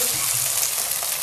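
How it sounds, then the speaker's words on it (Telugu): Ginger garlic paste being stirred into onions in a hot frying pan while cooking a cauliflower tomato curry, a steady close sizzle with soft scraping of the spoon. "ఈ జింజర్ గార్లిక్ పేస్ట్ని ఆనియన్తో కలిసేలాగా తిప్పండి"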